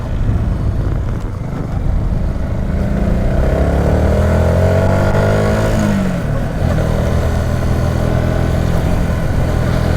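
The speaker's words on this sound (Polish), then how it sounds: "ja tutaj potężnym motocyklem zapierdalam" A Yamaha MT 125 motorcycle engine drones loudly and continuously while riding, its pitch rising and falling through gear changes with a brief dip near the middle, close and alone without talk.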